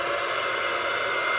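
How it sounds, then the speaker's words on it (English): A heat gun on a low setting runs with a steady, close-up broadband whoosh that stays level throughout, drying alcohol inks on a gift tag. "I'm just going to use my heat gun on a low setting just to make sure that's completely dry"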